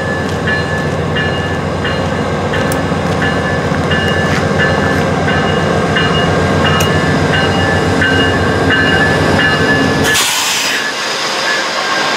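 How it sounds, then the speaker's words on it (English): A VIA Rail passenger train rolls past close by in winter, a loud, steady rumble with rhythmic wheel clicks over rail joints, then cuts off sharply near the end. "Short train."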